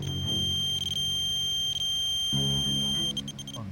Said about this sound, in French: le son que vous avez entendu avec le pinpointer